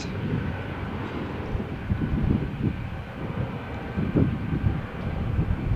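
A jet airliner taking off from Malaga Airport's Runway 13 on a stormy morning, a steady broad roar with wind buffeting the microphone, loud and sustained throughout with no talking.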